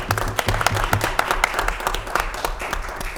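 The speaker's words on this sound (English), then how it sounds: "and round of applause" Applause rises from the audience at a board of education meeting as a student representative is introduced, a steady patter of many hands clapping at moderate distance for a few seconds.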